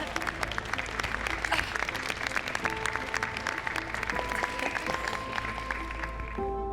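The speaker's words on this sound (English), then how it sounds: "Give her a round of applause" A theater audience applauds a volunteer called up on stage from the third row, a dense, steady sheet of clapping that carries on throughout with tonal music under it.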